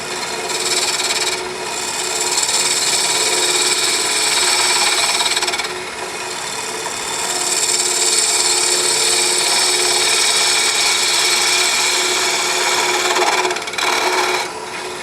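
A gouge cuts ambrosia maple on a wood lathe, giving a steady, close scraping hiss that swells and dips as the tool is pushed along the bevel, with no talking.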